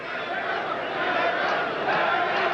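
A boxing arena crowd at a Larry Holmes versus Trevor Berbick fight, chanting Larry's name as a steady, dense roar of many voices that carries on without a break.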